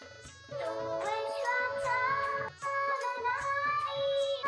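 A mobile phone rings for an incoming call, playing a loud, bright melodic ringtone that repeats its short tune about twice, with a brief gap midway and no voices.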